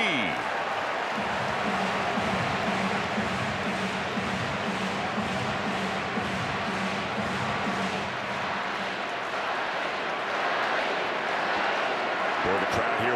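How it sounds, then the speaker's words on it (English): Sellout crowd of about 42,000 at a Houston Astros–Toronto Blue Jays baseball game at Toronto, a steady loud roar and cheering filling the stadium throughout, with commentators talking over it. "Boy, the crowd here wants it for him."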